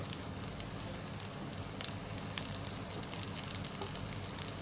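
Corn cutlets shallow-frying in a pan in a home kitchen, giving a steady, even sizzle with fine crackling throughout and no voices.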